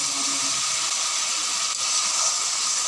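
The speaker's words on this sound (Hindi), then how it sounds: "अब हम इसे मज़ीद 5 मिनट तक फ्राई करेंगे हाई फ्लेम पे" Chicken karahi gosht frying in a karahi over a high flame, giving a steady, loud broadband sizzle and hiss that holds evenly throughout with no talk.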